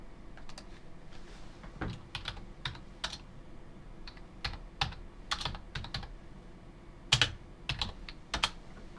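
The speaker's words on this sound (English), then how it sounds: "and then I will type in chkdsk space R" A computer keyboard is typed on in quick bursts of sharp, crisp clicks, with pauses between the keystroke runs. The sound is close and fairly quiet, with no talking.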